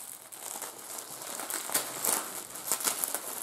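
Plastic wrapping film crinkling and crackling as it is peeled off a limited mediabook edition during unboxing, close and continuous with irregular louder crackles.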